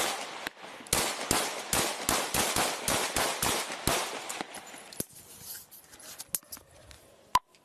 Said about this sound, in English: Shots fired. Male down with a gun.